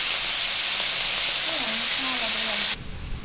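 Fish seasoned with turmeric and salt fries in hot oil, giving a steady, loud sizzling hiss that continues evenly for most of the clip before suddenly dropping away near the end.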